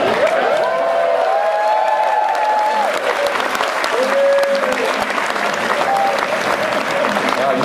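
Audience at a magic show applauding, dense continuous clapping from a crowd, with a voice talking over part of it and some cheering.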